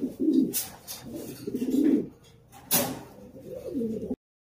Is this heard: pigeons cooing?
yes